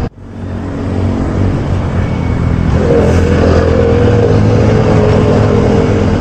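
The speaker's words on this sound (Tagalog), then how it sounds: "traffic yan dito kasi may rally ang ano, may rally ang iglesia" Loud road traffic is stuck in a jam caused by a church rally, with car engines droning and revving close by, a vehicle pulling away mid-clip and no one speaking.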